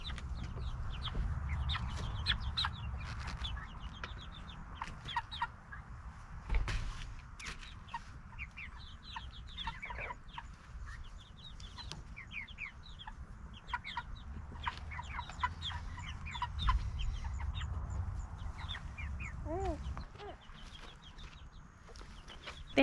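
Cornish meat chickens cluck softly and intermittently on a homestead, with scattered faint clucks and rustling throughout and no talk.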